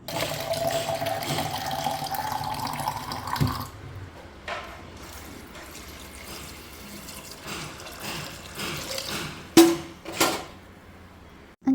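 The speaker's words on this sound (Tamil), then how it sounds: "கொஞ்சம் தேவையான அளவு தண்ணியை ஊற்றிட்டுறோம்" Water poured into a pan of roasted vermicelli in a home kitchen: a steady, close splashing stream for a few seconds, then quieter bubbling and clinking of pan and utensils, with a couple of sharp metallic knocks.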